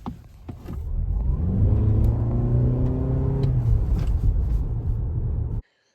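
A 2025 Subaru Forester Hybrid with a 2.5-liter boxer engine and electric motor accelerates hard, a steady loud engine rise with climbing whine lasting about five seconds before cutting off abruptly.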